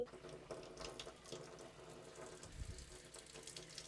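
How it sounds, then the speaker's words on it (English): Water runs slowly from a faucet fed through a newly installed iSPRING filtration system. The faint, irregular trickle and gurgle is quiet and close, with light clicks and no talking. "I'm gonna open the water slowly."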